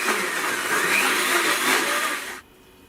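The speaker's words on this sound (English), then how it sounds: "Blend on high for about 20 to 30 seconds." A blender whirs loudly at high speed for about two seconds, then cuts off abruptly, leaving a faint hum.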